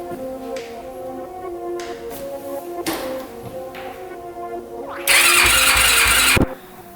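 A 2004 Yamaha YFZ450 quad is started on choke: a few taps and clicks, then a brief loud burst of broadband engine noise that cuts off sharply, with no talk.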